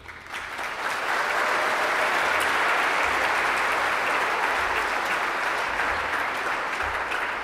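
Sustained, dense applause from a large audience at a school commencement ceremony for the co-valedictorians, swelling in the first second and then holding steady and loud without speech.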